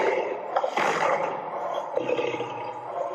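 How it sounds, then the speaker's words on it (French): A powerful lion's roar, a deep rumbling growl with a couple of surging swells over about three seconds, fairly close and alone. "Et écoutez ce rugissement puissant"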